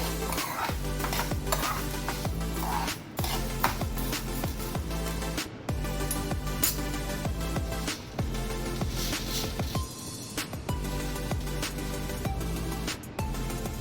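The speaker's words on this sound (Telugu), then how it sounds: "ఇదిగోనండి పప్పు అయితే వేగిపోయింది కందిపప్పు" Toor dal (pigeon pea lentils) is dry-roasted in a pan, with a constant rattling scrape as a spoon stirs and tosses the grains. Clinks against the pan repeat rhythmically, with brief pauses, and no one speaks.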